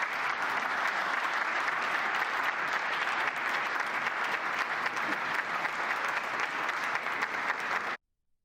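Sustained, dense applause from a large audience after a speech by JD Vance in Europe, loud and even throughout before cutting off abruptly at the end.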